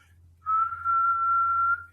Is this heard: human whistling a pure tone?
yes